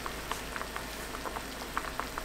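Sweet potatoes simmering in a pan of brown sugar, white wine and water syrup over medium heat, giving soft scattered bubbling pops in an irregular rhythm over a steady low hiss, close and quiet with no talking.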